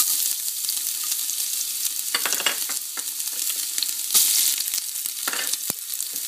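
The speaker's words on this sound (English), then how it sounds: "In a big pot, I'm going to add some oil. And I'm just going to fry up the garlic." Garlic fries in oil in a big pot, a bright, even sizzle that holds steady from start to finish, with occasional brief clinks and stirring scrapes close by.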